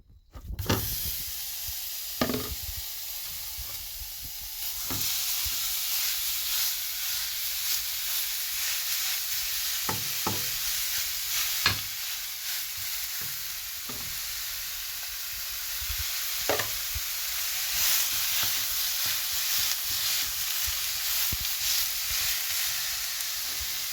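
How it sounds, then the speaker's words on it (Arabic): Minced meat sizzling and frying in a very hot pan for Egyptian goulash pastry, a steady loud hiss and crackle with occasional stirring scrapes throughout, no voices. "هنجيب طاسة زي كده ونسخنها قوي على النار، وبعد كده هننزل باللحمة كده اهو"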